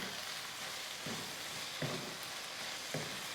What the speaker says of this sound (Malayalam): ഇത് നന്നായിട്ട് വഴണ്ട് വരുന്നുണ്ട്. സബോള ഒരു പേസ്റ്റ് പോലായി.